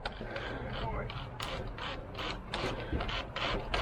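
Old square screws are backed out of long-fitted wood on a concrete tear-out job, a ratcheting driver clicking in quick bursts up close over a busy, noisy outdoor background.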